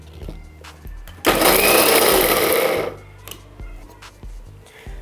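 A mixer grinder blends rajma with a little salt in one loud, whirring burst of a bit over a second, with quieter kitchen clatter before and after it and no talking.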